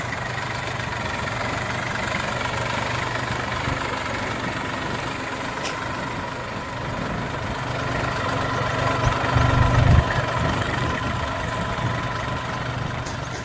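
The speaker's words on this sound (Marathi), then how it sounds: "ट्रॅक्टर" A tractor engine runs steadily nearby while sowing maize in a field, a low continuous chugging drone that swells briefly with a heavier rumble before settling back to idle.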